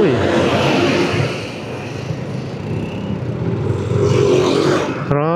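Road traffic on the route between Indang and Trece, with cars rolling past at close range in a steady broad rumble. Engine noise swells and fades as vehicles pass, and no voices are present.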